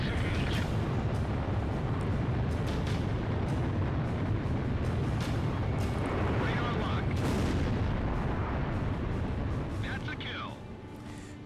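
Aircraft cannon in the flight game Ace Combat Zero, a dense, loud, continuous roar of rapid gunfire and explosions over heavy engine rumble, with a few sharper bursts before it thins out at the end.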